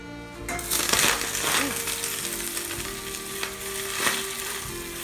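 Fresh spinach hits hot olive oil in a pan and sizzles steadily and fairly loudly for about five seconds, with a brief crackling flare early on and a faint voice in the background.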